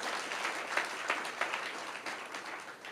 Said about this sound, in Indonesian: Kita beri tepuk tangan bagi Tuhan.